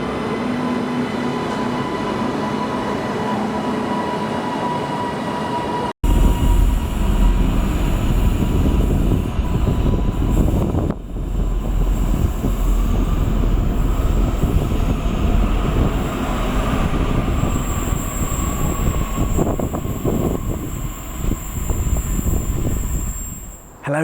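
A Northern train rumbles through Bolton station. A steady hum gives way to a sudden loud, continuous roar of wheels and motors close by, with a high whine above it.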